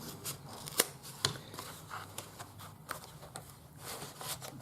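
Scissors trim material at an angle while a camera storage box is being made, giving a run of faint, close snips and crisp cuts at an uneven pace, with no talk.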